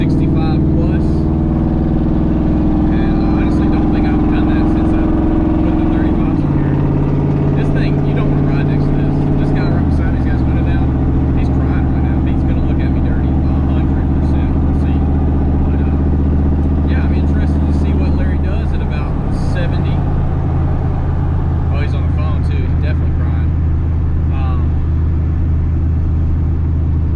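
Steady tire roar and engine drone from a car cruising at around 65 mph on a main road, with audible gear shifts, loud and continuous under occasional talk.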